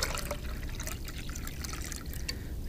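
Water poured into a measuring cup to make bubble solution, a soft close trickle and splash filling the cup, fairly quiet and unbroken.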